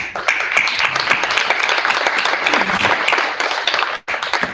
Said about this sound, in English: So, one applause for Elisabeth.